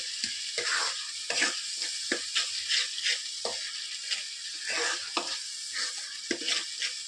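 Tomato rasam ingredients stirred in a hot pan: repeated scraping strokes of a spoon over a steady, close sizzle of frying, with no voices.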